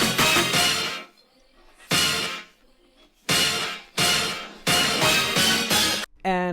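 Isolated 90's rave stab hits in punchy, bright chord bursts with brief gaps between them, ending on a short rising sweep.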